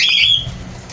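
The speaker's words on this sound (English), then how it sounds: "my birds have been having a rough day today" Pet birds giving a sharp, loud squawking call close by at the start, then fading into quiet room noise.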